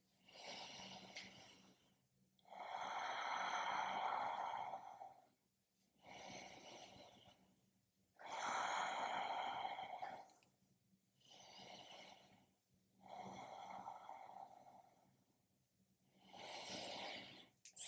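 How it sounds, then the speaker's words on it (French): Slow, deep breaths taken while holding a seated yoga pose with legs extended: five long, steady inhale-exhale cycles, close and fairly quiet, with soft pauses between them and no talking. "Et on va prendre 3 à 4 respirations ici."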